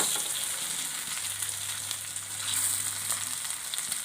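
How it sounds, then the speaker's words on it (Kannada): Fish frying in hot oil on a tava gives a continuous bright sizzle and crackle, steady and close, with a low hum underneath. "ಈಗ ಒಂದು ತವ ಇಟ್ಟು ನಾನು ಎಣ್ಣೆ ಹಾಕಿದ್ದೀನಿ ಬಿಸಿ ಆಗಿದೆ ಸೊ ಒಂದೊಂದೇ ಮೀನು ಹಾಕಿಡೋಣ"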